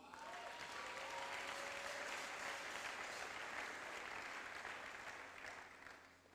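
A church congregation applauds steadily for several seconds, a dense, continuous clatter of many hands at moderate distance that fades toward the end, with a faint voice briefly audible at the start.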